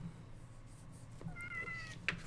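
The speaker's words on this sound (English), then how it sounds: "Sorry, I have a cat trying to cuddle with my notebook" A house cat meows faintly a couple of times, a short rising cry over low background hum, fairly distant and quiet.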